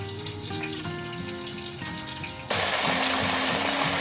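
Fish pieces drop into hot mustard oil in a kadai, and partway through a loud, bright sizzle suddenly erupts and holds steady over a low background hum, with no talk.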